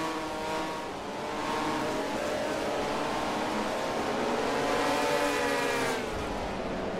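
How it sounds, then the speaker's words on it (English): Pack of stock-style race cars in a series race roaring past on a mile oval track, a steady dense engine drone that swells and shifts in pitch over several seconds, loud and continuous. "There's his pack of cars you're looking at right there."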